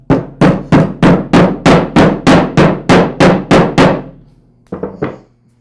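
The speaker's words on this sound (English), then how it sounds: "Just place it into the shaft and then tap it in place with a rubber mallet." A rubber mallet taps a woodruff key into a transmission shaft, with about a dozen evenly spaced, sharp close knocks, then a short pause and two final quick taps.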